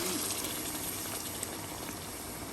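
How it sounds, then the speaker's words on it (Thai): Water pours into a cooking pot of simmering stew, making a continuous gushing, bubbling wash of liquid at moderate level that holds steady from start to finish. "ต่อไปคิดว่าจะใส่น้ำนะคะ"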